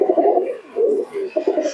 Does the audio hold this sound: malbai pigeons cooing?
yes